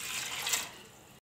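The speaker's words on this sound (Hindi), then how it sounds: "इसलिए इसमें हम कम पानी डालेंगे।" Water is poured into a pan of soaked masoor lentils, giving a brief, fairly quiet splashing rush that fades and stops abruptly after about a second.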